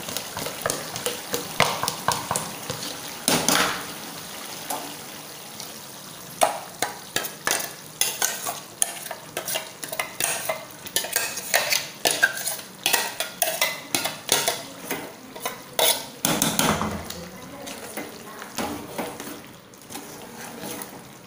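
Garlic and masala fry in a pan for Tisan chicken pulimunchi while a spoon scrapes and stirs them, leaving a steady close sizzle broken by frequent sharp metal clinks against the pan.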